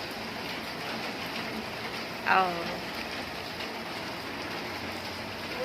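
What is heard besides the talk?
heavy rain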